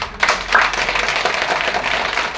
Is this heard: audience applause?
yes